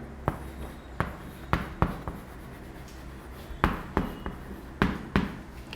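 A teacher writing on a board, with sharp chalk or marker taps and short strokes in irregular clusters, close and distinct against a quiet room.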